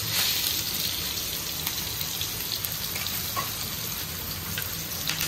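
Fish frying in a pan gives a steady, even sizzle and crackle throughout, fairly close and moderately loud, with no voices over it.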